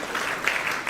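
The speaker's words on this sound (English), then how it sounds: "can you give a clap to Dr." Brief burst of audience clapping at a summit, dense and steady hand claps from a crowd filling the moment without any voice over it.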